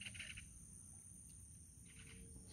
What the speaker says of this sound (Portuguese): Os pássaros estão cantando